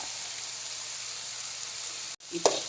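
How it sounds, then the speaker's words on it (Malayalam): Ridge gourd frying in a pan as chili, coriander and turmeric powders are stirred in, giving a steady low sizzle that briefly drops out before a short scrape and louder hiss. "മസാലപ്പൊടിയായ മുളക് പൊടി മല്ലിപ്പൊടി മഞ്ഞൾപ്പൊടി ചേർത്ത് കൊടുക്കാം ഇളക്കാം"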